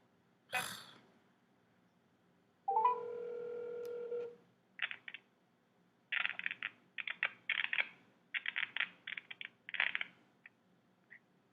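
A phone call is dialed on a phone that keeps acting up: a sharp tap, then a sustained dial tone of about a second and a half, followed by quick bursts of keypad tones in uneven clusters, close and clear in an otherwise quiet room.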